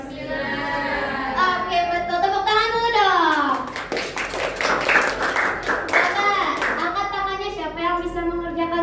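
Children clap together in a classroom, a burst of rapid hand claps in the middle with a child's and teacher's voices speaking before and after.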